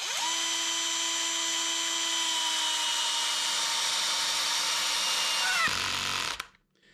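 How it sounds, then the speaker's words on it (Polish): A FERM CDM 1149 cordless drill drives a 6 cm screw, giving a loud, close, steady motor whine that runs for several seconds, drops briefly in pitch and cuts off. "Zobaczymy od takiego małego 6-centymetrowego wkręta. Zobaczymy, jak uda nam się go wkręcić."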